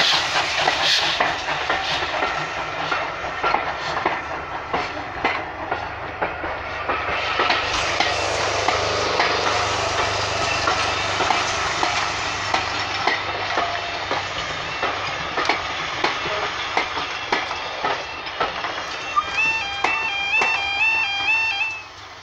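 Steam locomotive 92203 Black Prince rolls past a level crossing at Sheringham West, a loud continuous rumble and hiss with rhythmic clickety-clack of wheels, and a high whistle-like squeal near the end.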